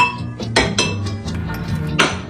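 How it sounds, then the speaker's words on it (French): Ingredients for a fish-broth recipe with coriander go into a blender, making several sharp clinks and clatters of utensils and containers at an uneven pace. "Dans le mixeur, on met le tout."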